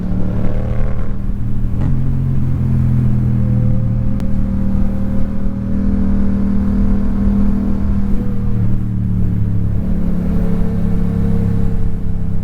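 Yamaha R6 and MT-07 motorcycles on a road, with a loud, steady engine drone whose pitch shifts and rises as they accelerate, heard close with no talking.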